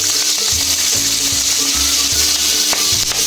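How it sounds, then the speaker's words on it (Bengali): Tiger prawns frying in hot mustard oil in a wok give a loud, steady, crackling sizzle throughout, with a few soft stirring knocks, and no voices. "চিংড়ি মাছগুলো আমি ভেজে নেব।"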